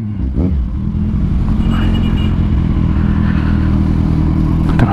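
Road traffic on Sumulong in Antipolo heard from a Kawasaki Z1000R, a loud steady rumble of cars and motorcycles with engine drone throughout.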